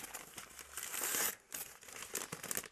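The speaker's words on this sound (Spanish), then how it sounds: "esto sí que lo puedo romper porque es el envoltorio." Plastic wrapping on a boxed Scuf game controller is torn open up close, loud crinkling and ripping in bursts with a short pause midway.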